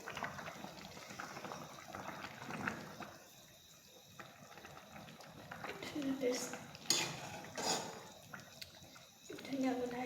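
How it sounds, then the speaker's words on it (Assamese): Koi fish curry is stirred in a pan, with quiet scraping and clinking of a spoon against metal and a soft bubbling simmer underneath, faint and close. "এতিয়া লৰাই দিম।"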